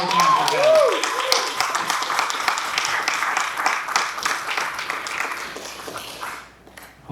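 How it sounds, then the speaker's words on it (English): Wedding guests applaud a speech in a dense, continuous burst of clapping with a whistle near the start, holding steady before fading out at the end. "Can we get a round of applause one more time for Kathy?"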